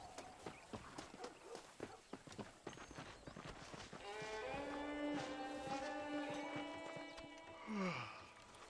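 Horse hooves clip-clopping in the Red Dead Redemption game world, with an irregular stream of hoof hits that gives way to a sustained tonal music-like passage and a brief rising swell near the end.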